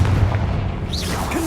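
A fire-blast spell explodes in the Hogwarts Legacy video game, a deep, loud boom that fills the short moment over a rumbling low background.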